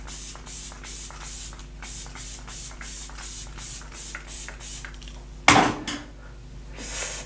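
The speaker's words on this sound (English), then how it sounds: "Some setting spray." A pump bottle of makeup setting spray sends one sharp, close hiss through steady background clatter, with a fainter second spritz shortly after.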